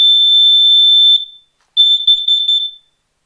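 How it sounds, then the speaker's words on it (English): A carbon monoxide detector sounds after its test button is pressed: a loud, piercing high-pitched tone holds for over a second, pauses briefly, then returns in a quick stuttering series of beeps before stopping. "Carbon monoxide detector."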